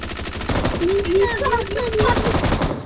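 Rapid automatic gunfire in the video game PUBG, a dense continuous burst of loud shots throughout, with a voice talking over it.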